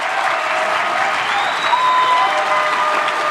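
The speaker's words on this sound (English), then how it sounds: "I think you all deserve a round of applause." Steady applause from a large crowd at a Libertarian National Committee chair debate fills the room, even and sustained for the whole stretch.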